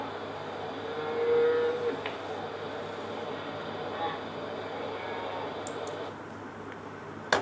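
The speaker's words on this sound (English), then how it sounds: "if there is a cow and it is mooing, its sound is very low" A cow moos once, low and fairly distant, over steady outdoor background noise, with a few faint ticks near the end.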